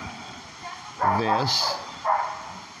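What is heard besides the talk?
dog barking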